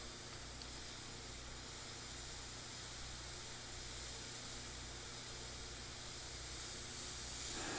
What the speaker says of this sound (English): I'm still having fun, so I'm going to keep airbrushing